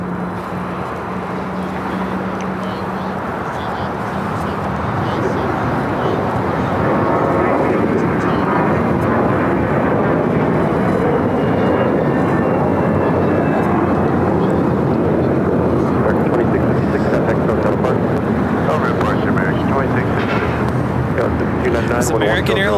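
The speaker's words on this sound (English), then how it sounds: "American Airlines 2656 taking off to Los Cabos on the A321" An American Airlines Airbus A321 takes off from LAX runway 25 right for Los Cabos, a loud roaring jet engine rumble that swells and stays strong, heard close with speech mixed underneath.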